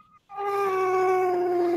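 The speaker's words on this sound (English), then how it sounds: "that's not a happy cat" A cat lets out a long, loud, unhappy yowl, one sustained wavering cry close by, with no talking.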